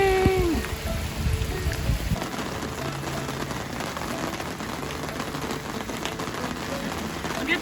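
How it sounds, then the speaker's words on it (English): Steady rain pours down on a campsite during a hiking trip near the French Broad River in Cherokee National Forest, a dense even patter with no voices. "And we're all alone in the rain."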